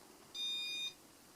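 A Casablanca Panama 5 Inteli-Touch ceiling fan from around 1984 gives a single electronic speed beep, a clear steady tone lasting about half a second, close and alone against a quiet room hum.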